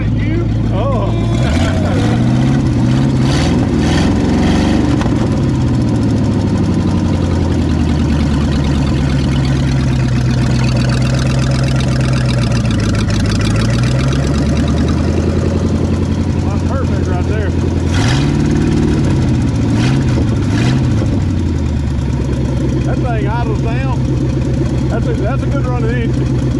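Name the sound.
1959 Ford Galaxie 352 V8 engine running and idling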